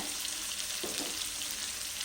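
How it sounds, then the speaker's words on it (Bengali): A steady, crackling sizzle of potatoes frying in hot oil in an iron wok, continuous and close, with a few brief stirring scrapes midway. "আলুগুলোকে আমি দুবারে ভেজে নেব"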